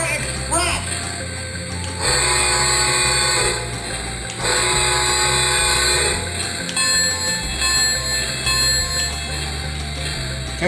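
A Lionel Polar Express remote-control toy train set plays repeated bright bell chimes and ringing effects in bursts, with people talking over and between the sounds close by.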